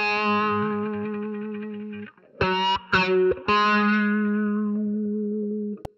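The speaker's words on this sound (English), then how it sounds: "And what you're hearing is a half step bend and then natural." Distorted electric guitar in a lick, sustained notes with a half step bend then the natural note, loud and gritty with brief breaks between phrases, no talking.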